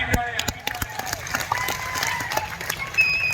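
A crowd at an outdoor wrestling ground breaks into scattered applause, claps popping irregularly over a murmur of voices and a few faint cheers.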